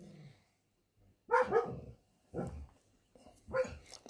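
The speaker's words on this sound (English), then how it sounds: "It's keeping me sober and the dogs are tripping." Dogs bark in a handful of loud, close bursts separated by short pauses, with no talking over them.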